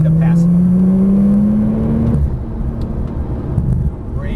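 A Porsche Turbo S accelerates hard on a race track, its engine note climbing steadily in a loud rising whine before the revs drop and a rumbling drone continues close by.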